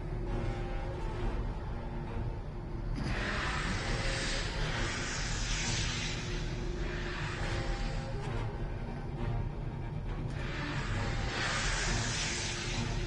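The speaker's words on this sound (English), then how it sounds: "Use your thrusters." Spaceship thrusters in the video game Star Trek Online: a steady roaring hiss that swells in two long surges, loud and continuous throughout with no talk.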